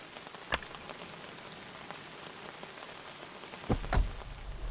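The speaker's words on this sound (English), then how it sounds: "Oh, it's raining. I can hear it." Faint, steady patter of rain falling outside, with a few sharper drips and knocks standing out near the end.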